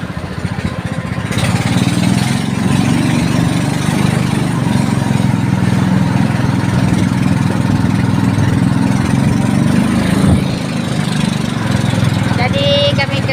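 A small boat's engine drones steadily and loud on the Sebangau river, a continuous mid-low motor hum running throughout with no break.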